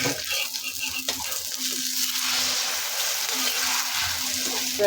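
Eggs fry in oil on an overheated tawa, giving a steady close hiss and sizzle that stays fairly even throughout, with faint crackling and no voices.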